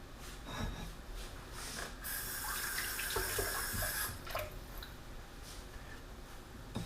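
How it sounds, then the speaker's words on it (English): Cooked spinach for wedding soup is squeezed by hand to press out its dirty-looking water, giving close wet squishing and a trickle of water running off. No one speaks. "Now I'm squeezing my spinach."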